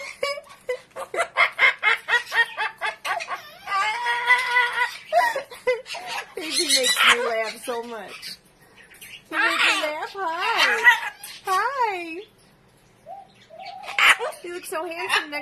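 A severe macaw vocalizes up close in a long run of chattering, laugh-like giggles, coos and swooping whistled notes, some rhythmic and some pitch-bending, with brief pauses.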